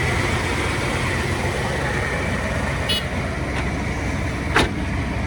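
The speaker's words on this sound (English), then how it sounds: "Tundra, look at V8 engine." A Toyota Tundra's V8 engine idles with a steady, even drone close to the listener, with a couple of brief clicks over the constant rumble.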